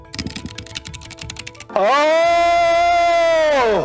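A mechanical gaming keyboard clatters with fast, crisp keystrokes for under two seconds, close and distinct, before a loud sustained tone takes over and the typing stops.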